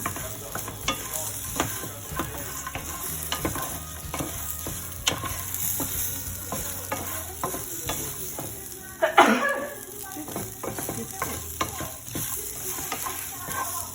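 Shrimp with pepper stirred in a hot pan, a steady sizzle under repeated spatula scrapes and taps, close and clear, with one louder clatter partway through and no voices.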